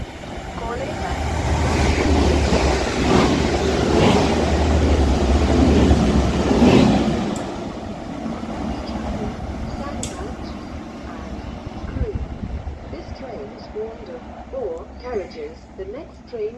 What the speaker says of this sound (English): Now passing through is going to be a Transpennine Express Class 185 for Redcar Central from Manchester Airport